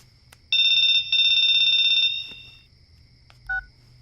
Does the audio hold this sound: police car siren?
no